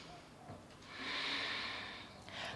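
A single long, audible breath during a yoga practice session swells into a soft, airy exhale near the listener, with quiet room tone before and after.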